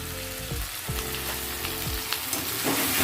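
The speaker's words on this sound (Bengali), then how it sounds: "এবার এটা ভালো করে ভাজা ভাজা করে নেব" Cumin powder and spices sizzle and fry steadily in a hot pan, a close, continuous crackle broken by a few brief stirring scrapes, with no one speaking.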